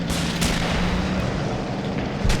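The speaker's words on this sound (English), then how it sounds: "that explosion just took out an entire squad by the looks of it" A battlefield explosion in the war game Men of War, a dense, continuous roar with heavy low rumble and sharp bursts near the start and end, loud and without speech.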